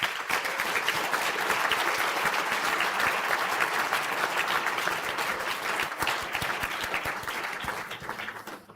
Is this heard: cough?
no